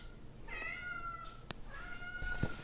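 A house cat meows indoors, giving two clear drawn-out calls close by with a short pause between them and no talking over them.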